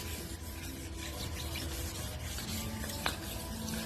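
Steady dry rasping of sandpaper scrubbed back and forth over a Hyundai i10 headlight, continuous and close, with no voices.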